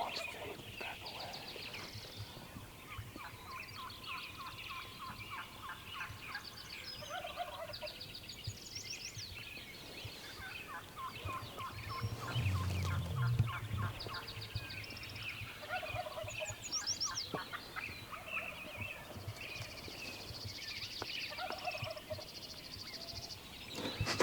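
A wild turkey gobbles far off in the western hunting woods, several faint rattling bursts over steady outdoor background with other birds calling.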